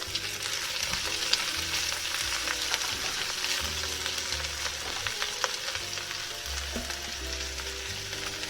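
Sliced leek sauteing in a pan for leek and potato soup, a continuous even sizzle with faint crackles and occasional light stirring, steady and close throughout.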